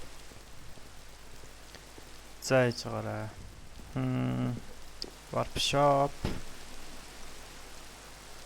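Steady hissing rain in a prison video game forms a constant noise bed throughout, with people talking over it in short bursts.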